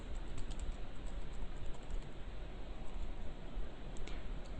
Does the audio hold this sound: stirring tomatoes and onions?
no